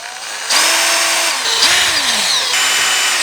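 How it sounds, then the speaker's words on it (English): Power drill driving the last few screws into wooden planks for a greenhouse build, several loud whirring bursts with rising and falling pitch, each running about a second with short gaps between. "So I'm just going to finish up with the last 4 screws."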